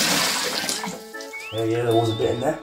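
Water mixed with loose pumpkin flesh pours and splashes out of a hollowed pumpkin, a close, steady gush that a person talks over briefly.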